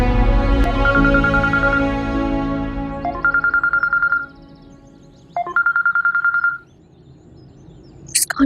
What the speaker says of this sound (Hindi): मुस्कान का फोन आ रहा है।